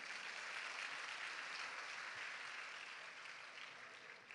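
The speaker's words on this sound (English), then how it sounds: "give yourselves a round of applause" An audience applauds at a senior high school commencement exercise at Bulacan State University, producing a faint, distant, steady wash of clapping that tapers slightly toward the end.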